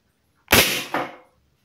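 A single sharp shot from a pump air gun pumped 13 times, with a burst of hiss, followed by a second softer impact, close and loud against a quiet background.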